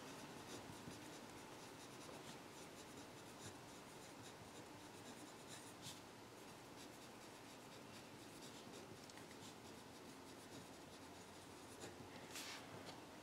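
Steady scratching of writing on a board, continuous and close, with a couple of sharper strokes and no talk.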